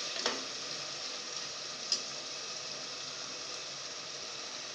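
Tomatoes sauté in a pan for a vegetable biryani, giving a soft, even sizzle throughout with a couple of sharp clinks from a utensil, fairly quiet and without voices.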